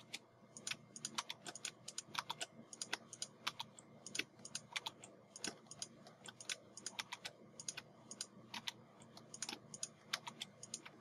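Keyboard shortcuts and mouse clicks come in quick irregular bursts at a computer running Blender, with sharp close taps and clicks over quiet room tone and no talking.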